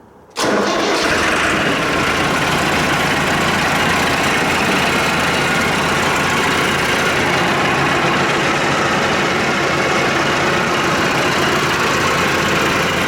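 A Mahindra 8560 turbo diesel tractor engine cranks and fires, then settles into a loud, steady, close idle with a low rumbling drone that runs uninterrupted.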